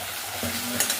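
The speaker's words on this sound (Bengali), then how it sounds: "পেঁয়াজটা ভেজে নিচ্ছি।" Onion frying in a pan for a green jackfruit dish cooked in a village kitchen, a close steady sizzle with a brief stir or scrape near the end.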